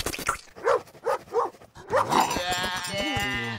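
In a cartoon pet show, a herding dog barks in a run of sharp evenly spaced yelps. Sheep then bleat together over a musical cartoon effect.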